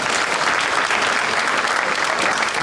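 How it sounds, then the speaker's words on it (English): Steady, loud audience applause at a community meeting, given to thank firefighters, a dense wash of many hands clapping continuously with no talk over it. "That's where you say thanks and applause."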